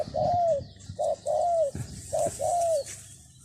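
A dove coos in a repeated phrase during bird training in Thailand, with five clear hooting notes in pairs and a single, close and distinct, over faint background chatter and outdoor noise.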